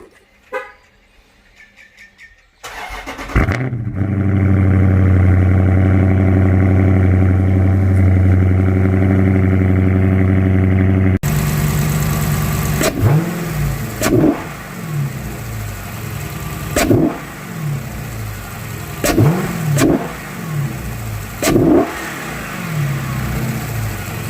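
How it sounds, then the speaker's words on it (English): A 392 Hemi V8 with a new air intake and throttle body cold-starts with a sharp crank and catch, then idles high and steady. Several loud throttle blips follow, each rising and falling. "So let's start it up and see how it sounds. And it's gonna be a cold start"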